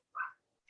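A dog barks once, a short, fairly faint yelp followed by a brief high sound at the end.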